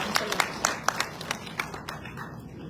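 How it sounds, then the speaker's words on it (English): A crowd at a formal public event in the Philippines, with senators present, claps in a round of applause, with sharp scattered hand claps that thin out toward the end. "A round of applause"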